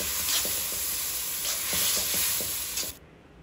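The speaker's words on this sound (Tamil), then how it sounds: "தக்காளி நல்லா சாஃப்டாக வதங்கணும்." Thin-sliced tomatoes sautéing in a pan for kothu parotta, a steady close sizzle with occasional soft stirring scrapes, cutting off abruptly near the end.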